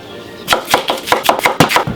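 A knife chops yellow-fleshed potatoes on a board in about eight sharp, evenly spaced strokes, close and clear with no voices.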